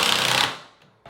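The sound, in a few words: driving screws into door jamb at hinge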